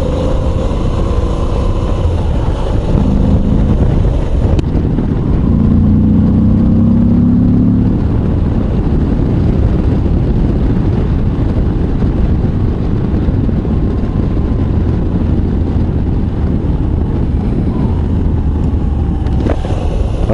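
A Moto Guzzi V85 TT Travel, a 2022 model still in its break-in period, rumbles steadily at low revs while being ridden, its engine drone loud and continuous under heavy wind noise, with no voices.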